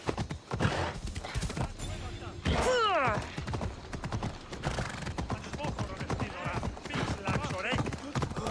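Horse hooves clip-clop steadily through Assassin's Creed Odyssey, with a whinny rising in the middle and a voice talking over much of the ride.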